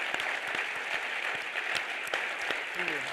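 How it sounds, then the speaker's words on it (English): An audience applauds, a dense, steady patter of many hands clapping, with a voice briefly speaking near the end. "Please join me in a round of applause"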